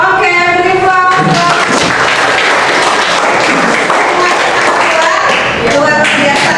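A classroom of students applauding, loud dense clapping sustained throughout, with a woman teacher's voice speaking over the start and end.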